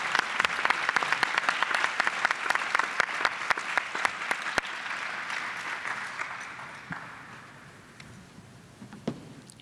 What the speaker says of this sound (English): Another round of applause for our debaters.